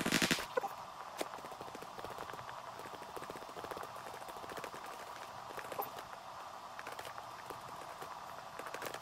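Footsteps in PUBG tap in a quick, steady rhythm like hard soles on a firm surface, faint and continuous against a quiet game background.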